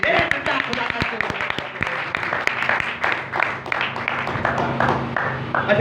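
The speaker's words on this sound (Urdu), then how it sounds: "اشرف بھائی کے لیے زوردار تالیاں" Audience applause for Ashraf bhai, steady dense clapping throughout with a few sharper claps near the start, mixed with talk and background noise.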